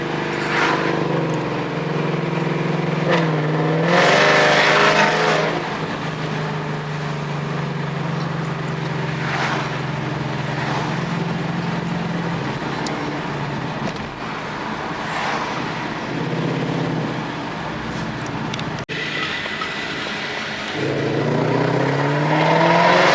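A stage 2 Ford Mustang GT with headers, an X-pipe and the factory muffler gives a loud, close exhaust rumble that idles and rises in several revving swells.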